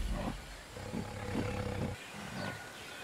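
A big tiger-like cat in the video game Ancestors: The Humankind Odyssey lets out deep, rumbling roars, several throaty pulses in a row, heavy and close with no talk.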